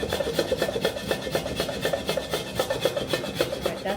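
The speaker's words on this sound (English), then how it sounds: "I'm just going to grate it right over my pot as well" Frozen ginger is rasped against a grater over a cooking pot, making steady rhythmic scraping strokes at close range, repeated evenly throughout with no talking.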